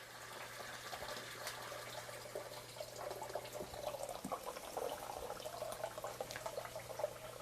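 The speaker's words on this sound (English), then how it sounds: "When you lift the pressure valve at the top, it allows that water to flow out freely" Water streams steadily out of the opened pressure valve on a hot water heater, a continuous gushing flow with a low hum underneath and no talking.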